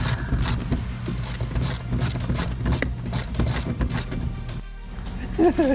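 A ratchet wrench turns 14 mm bolts holding the third-row seats of a Lexus GX460, giving rapid repeated clicking bursts with metallic clatter, close and loud, with brief speech near the end.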